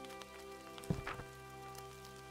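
Light rain patters softly and steadily in the game Mirthwood, a faint continuous wash with a few brief splashy accents.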